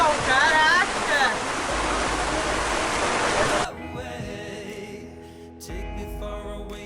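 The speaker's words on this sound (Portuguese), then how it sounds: "Tá caindo um pau d'água lá fora, tá chovendo pra caramba, uma ventania." Heavy rain and gusting wind lash the outside of a sailboat in a storm at Rangiroa, a dense, loud roar that suddenly drops to a quieter interior sound, with brief voices over it.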